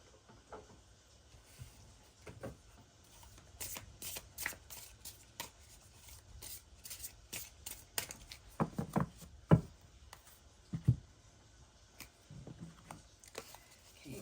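Mayan tarot deck being shuffled by hand, close and quiet, in irregular bursts of riffling card flutter and soft taps with short pauses between them.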